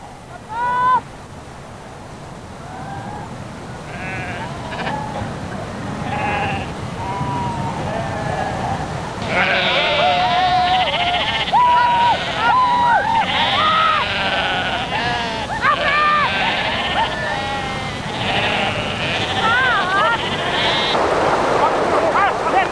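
A flock of sheep being driven by mountain men in wet Icelandic highlands bleats continuously, many overlapping calls near and far, growing louder and busier midway, with faint voices underneath.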